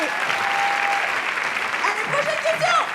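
Audience applause at a live show, a dense, steady clapping from a crowd filling the whole stretch, with voices faintly audible beneath it.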